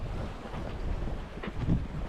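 Wind blowing steadily across a sailboat at sea off southern Majorca, a low continuous rush with gusty swells and some water movement underneath, no voices.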